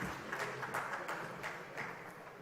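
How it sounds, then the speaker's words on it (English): Audience at a CIO summit awards ceremony claps in a moderate, steady wash of applause that stays fairly even throughout and sounds a little distant. "I think a round of applause for the body swerve at least."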